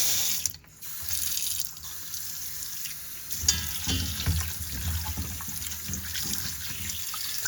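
Cold tap water runs steadily into a sink, splashing and pattering over raw chicken wings in a colander, with brief changes as the stream is interrupted.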